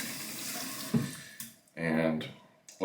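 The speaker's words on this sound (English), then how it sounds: "and then we're going to run some water through the brush" Warm tap water runs through a shaving brush over a sink before lathering a Wolfman WR1 shave, a steady close faucet stream with a brief splashy burst near the end, with talk in between.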